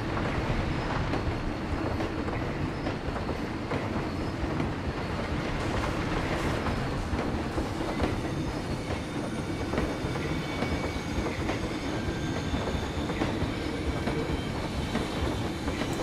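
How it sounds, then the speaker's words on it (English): Steady train rumble and rolling rail noise from a three-car train in the Planet Coaster theme-park game, a continuous loud drone with faint clicking that holds evenly for the whole stretch. "Pause the game so I can stop listening to the train idling."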